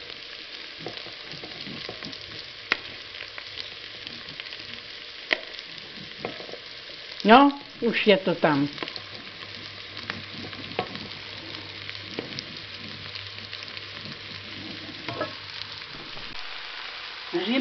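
Mushrooms frying in a pot over onion, with a steady sizzle throughout and a louder burst of stirring and clatter midway; a voice speaks briefly.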